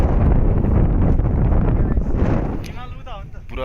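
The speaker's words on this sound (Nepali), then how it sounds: "चिसो हावा आइरहेछ हेर्नु डाँडामा" Cold wind gusts hard across a mountain ridge near Kalinchowk Bhagwati Temple in Nepal, roaring and buffeting the microphone for a few seconds before easing as a voice briefly speaks.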